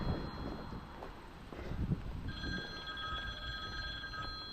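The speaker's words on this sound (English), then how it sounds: "there's an incoming call, like I can't hear it ringing" A phone rings for an incoming call on an outdoor walk in Maine. The electronic ringtone starts partway through and repeats in steady tonal pulses over wind noise and footsteps.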